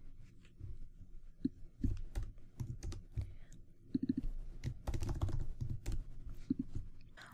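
Fingers type on a computer keyboard while a micro:bit is being set up, a close series of irregular clicking keystrokes in small bursts with short pauses between them.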